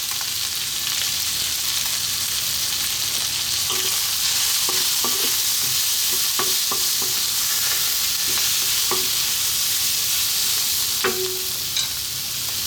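Paprika, oregano, chili and cumin being stirred into a beef stew frying in a pan, a steady loud sizzle with scattered scraping clicks of the spoon, no talk.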